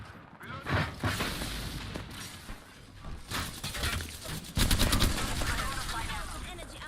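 Rapid bursts of gunfire in a team shooter video game, loud and repeated, with machine-gun volleys and single shots mixed over game callouts and player voices.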